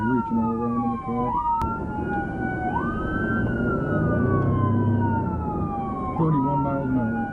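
A police siren wails continuously during a traffic stop, sweeping up and down in long, rising and falling tones, loud and close over engine rumble and faint voices.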